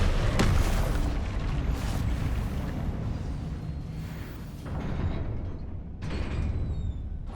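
A Confringo fire spell explodes in the Hogwarts Legacy video game with a sharp, booming burst near the start. A rumbling tail follows, and a second burst comes near the end, all fairly quiet.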